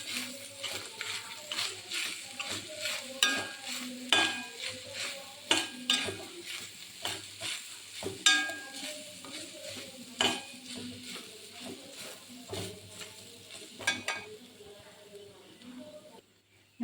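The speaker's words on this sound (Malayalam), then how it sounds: "ഞാൻ തേങ്ങ വറക്കുന്ന സ്റ്റൗ ഓഫ് ചെയ്തു" Coconut roasting in a pan is stirred with a spoon, giving repeated scraping and clinking strokes over a low sizzle, close and fairly loud, continuing steadily before fading toward the end.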